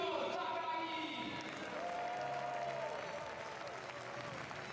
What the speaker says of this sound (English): Give them one more big applause.